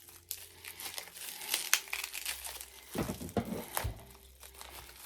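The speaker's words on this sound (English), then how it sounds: "Back to the unwrapping." Wrapped beer cans from a craft beer mail package are unwrapped. Wrapping paper crinkles and tears up close, with irregular rustling bursts and louder crumpling in the middle.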